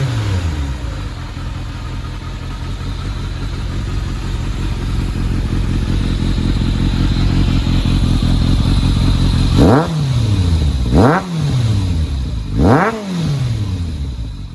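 A 2000 Kawasaki ZRX1100 motorcycle with a Hindle exhaust runs at a loud, steady idle up close, then gets three sharp throttle blips that rise and fall quickly near the end.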